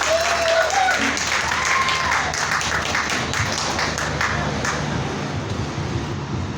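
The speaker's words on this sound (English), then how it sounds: "Give him a round of applause." A community audience applauds a one-man band performer, with scattered clapping that stays fairly steady and slowly thins out over several seconds.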